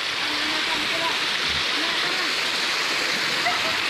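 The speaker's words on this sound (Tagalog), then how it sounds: "Napakaganda ng falls." A forest waterfall pours in a steady, broadband rush that holds constant throughout, with brief faint speech-like sounds layered on top.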